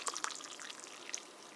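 Chocolatey peppermint herbal tea is poured into a cup, making a soft, steady trickle and splash of liquid that stays fairly faint throughout.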